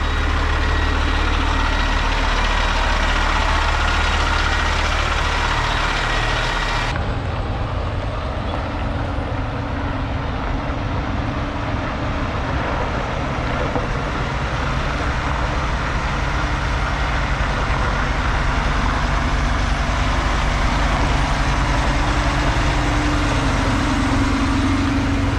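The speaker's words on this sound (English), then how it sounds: "you could hear his axles sliding" Truck trailer axles sliding on a walking-floor trailer under a steady rumbling diesel engine, a continuous broadband grinding roar with a shift in tone early on, fairly loud and without talk.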